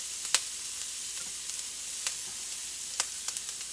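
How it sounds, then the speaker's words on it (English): Cabbage and carrots go into a hot pan on a new stove for baked egg rolls, crackling in a steady, moderate sizzle with scattered sharp pops, close by and with no talk. "in there goes my cabbage and my carrots"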